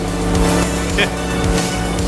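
Car engine from Forza Horizon 5 driving around Copper Canyon, a steady loud motor drone with a brief tire squeal, continuous throughout with no talking.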